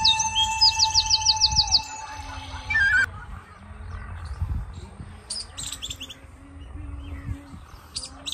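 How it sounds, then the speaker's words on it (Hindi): Birds chirp and trill in a rural Indian orchard beside farm fields, with a rapid repeated call early on and scattered tweets throughout over low outdoor rumble. "चिड़िया चैचै कर रही है"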